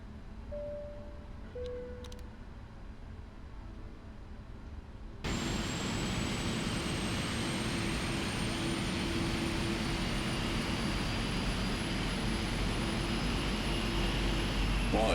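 A Boeing 777's right jet engine spooling up during start in the PMDG flight simulator, a steady loud roar that begins abruptly partway through and holds with a rising whine above it, with no talk over it.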